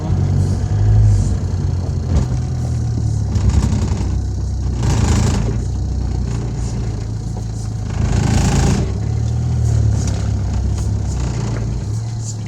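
A Lada Kalina 1.4 car, bought after a serious crash, pulls away with a steady close engine drone that swells at intervals as it revs, with faint voice under the engine noise.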